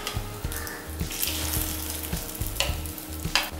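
An egg omelette fries in a ladle, giving a steady close sizzle with a few light metallic clinks and no talking.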